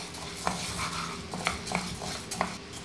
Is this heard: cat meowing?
no